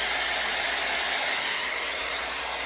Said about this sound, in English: that's why you always see me kind of moving the blow dryer